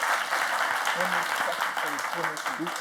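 A French television game-show studio audience applauds the contestants, a dense steady wash of clapping filling the whole stretch, with faint voices underneath.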